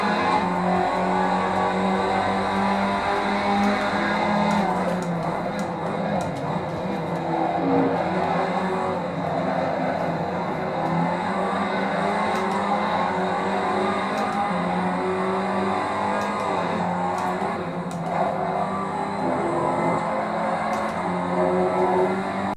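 A race car engine roars steadily through a sim racing video game, holding a loud, continuous high drone with slight shifts in revs and no pauses. Nobody speaks.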